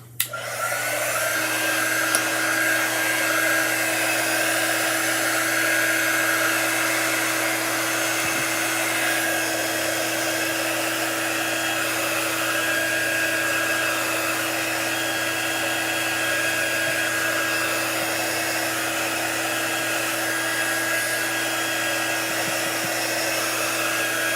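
A hair dryer blows on chalk drawings, a loud, constant whirring hum that starts abruptly and runs unbroken throughout with no speech.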